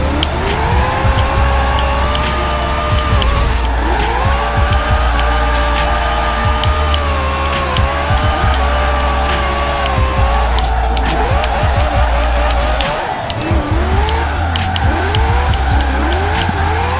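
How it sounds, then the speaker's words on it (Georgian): A car drifts in Forza Horizon 4, its engine revving hard and loud while the tires squeal in long sliding wails that rise and fall repeatedly, with a voice talking faintly underneath. "ნახოთ სალონიდან როგორ ვიდრიფტავთ ამ მანქანით."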